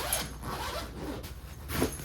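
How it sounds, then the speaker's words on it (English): Someone zips up a 40-litre carry-on backpack: a continuous, raspy zipper pull lasting about two seconds, close and fairly quiet, with a few slightly louder tugs near the start and end. "I'm gonna have to zip this up again."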